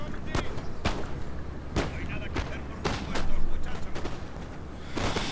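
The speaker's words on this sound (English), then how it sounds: "there goes my artillery, firing in on them" Artillery batteries fire repeatedly in a Napoleonic-era battle in the strategy game Napoleon: Total War, with sharp booms at irregular intervals over a steady din of battle and musketry, a voice talking over it.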